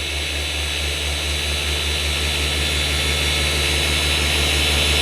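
A polisher runs during car paint correction, a steady loud motor drone with a low hum and broad whirring that stays even throughout with no talk.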